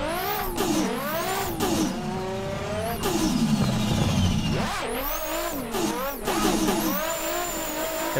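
A Nissan S15 drift car's turbocharged engine revs hard in boost at Yas Marina circuit, climbing and falling repeatedly between shifts, loud and continuous with tyre noise.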